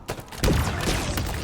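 A suction gun's shot explodes in a video game, a sharp burst followed by a rumbling, crackling pull lasting over a second, loud and close.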